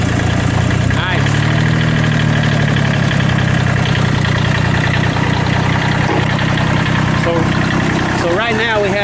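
A cold Kubota tractor diesel engine idles steadily just after starting, a continuous mid-pitched rumble with some knocking texture and vibration, up close with occasional background noises.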